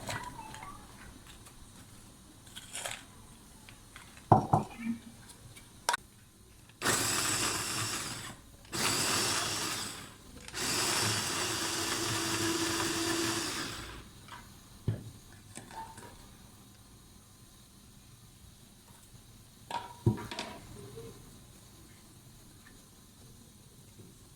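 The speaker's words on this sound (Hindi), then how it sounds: "अब ये जो है बिस्किट, ये हम इनको ग्राइंड करेंगे।" Oreo biscuits are ground in a kitchen grinder in two loud whirring bursts of several seconds each, separated by a short pause, with clinks and taps of handling before and after.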